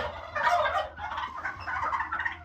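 Turkey hen gobbling in a farm setting during January, a close, loud run of rapid warbling calls in two bursts with a brief pause between.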